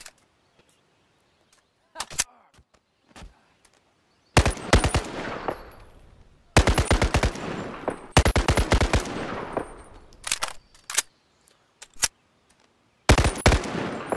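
Loud virtual gunfire from a G3A3 rifle in the BONELAB VR game, fired in several bursts of rapid automatic shots separated by short quiet gaps and a few single clicks.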